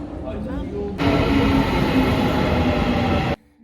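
Marmaray commuter train in Istanbul riding along, a loud steady rumble of wheels and carriage noise that fills most of the clip, with quieter chatter in the car before it swells.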